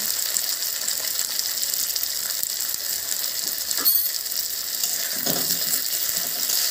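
Chopped tomatoes sizzle in a hot pan for a rui fish malai curry, a dense, steady crackling hiss close by with a few brief clinks, and no talking.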